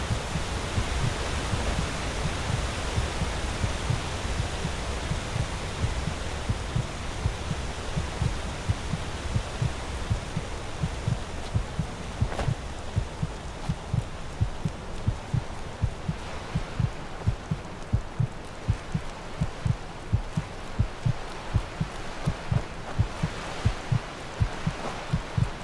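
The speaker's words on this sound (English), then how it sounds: "Need to get to the mainland so I can stop this heartbeat sound effect." In the video game Enderal, a heartbeat sound effect throbs steadily and loudly over a low hum, with its deep regular pulses continuing for the whole stretch.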